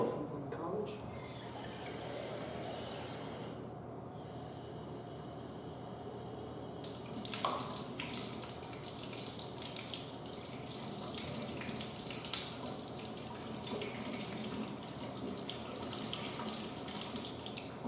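Tap water running from a faucet, a faint, steady hiss of flowing water that carries on throughout with small shifts in the stream.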